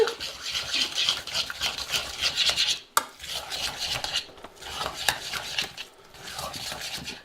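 A spoon scrapes and stirs through peas dressed with lime juice, chilli, coriander and mint in a bowl, giving continuous close rasping strokes in several long passes separated by short pauses, with no talk.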